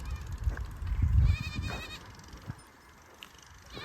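Goats and sheep in a field, with a couple of short bleats near the start and a louder bleat around the first second, followed by fainter calls over quiet outdoor background.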